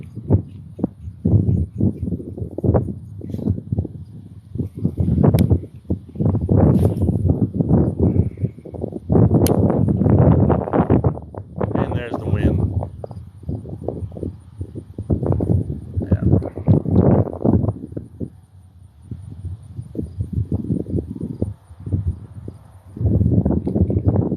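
Strong wind gusting across a low pond on a bass fishing outing, a steady roaring buffet on the microphone with rustling, loud and close throughout.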